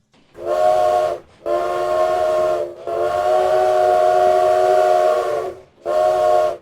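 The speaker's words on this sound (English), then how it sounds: "The train, boss. Here comes the train." A steam train's whistle sounds as a radio-play effect, blowing in four long loud blasts separated by short gaps, the third held longest, with no voices over it.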